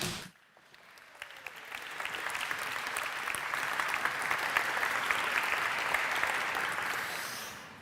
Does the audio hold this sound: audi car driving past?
no